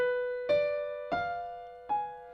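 A fully diminished seventh chord on B is spelled out as four clear, sustained notes struck one after another about half a second apart, each ringing over the last.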